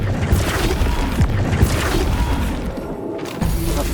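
Impacts from the Flipendo spell in Hogwarts Legacy hit as heavy booming thuds and crashes amid clattering game noise, several strikes landing in quick succession over about four seconds.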